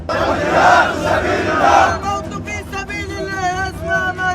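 A large crowd at a funeral in Gaza runs and chants, a dense roar of many voices that shifts into rhythmic, tonal shouting; loud and close, with no single voice standing apart.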